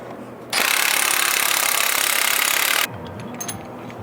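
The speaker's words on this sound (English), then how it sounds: "install tool and thread this in there. All right, then take the nut, thread that on." A loud, steady burst of mechanical whirring, likely a power tool, lasts about two seconds while an install tool and nut seat an ATI Super Damper on a ZL1 V8 crank, followed by quieter handling clatter.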